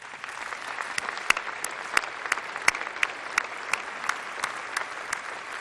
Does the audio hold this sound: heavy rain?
no